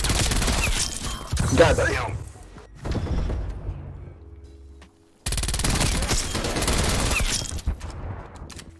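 A decoy grenade in a video game mimicking gunfire, rattling bursts of fake shots in two separated stretches with a quiet gap between, and a player speaking briefly.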